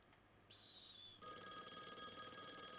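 A telephone rings in the video game Call of the Elder Gods: a brief tone, then a steady electronic ringing that starts about a second in and continues, quiet and close, with no voices.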